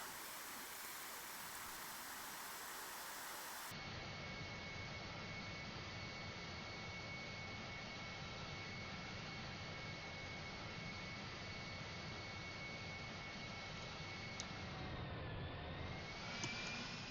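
A Boeing 747 jet landing in the GeoFS flight simulator game produces a continuous, even engine roar with a faint high whine, shifting slightly in tone near the end.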